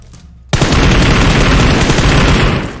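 Automatic gunfire erupts in a PUBG Mobile match, a sudden loud, continuous burst of rapid shots that fills the sound for over two seconds after a brief quiet start.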